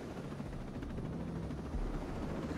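A helicopter in the video game Ghost Recon Breakpoint gives a steady low rotor rumble with a faint rhythmic chop, continuous and moderately loud with no talk.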